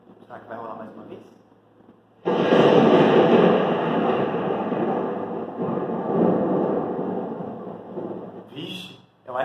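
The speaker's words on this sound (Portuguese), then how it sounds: "eu acho que isso é um som de trovão" Thunder recording played in a children's music class: a sudden loud broadband rumble bursts in after a quieter start and rolls on for several seconds, with a brief fade near the end and background voices around it.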